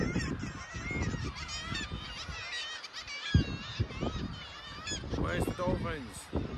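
Seabirds on Scottish sea cliffs keep up a dense, continuous chorus of honking squawks and growling calls, many birds at once with some near and some farther off, and no clear break.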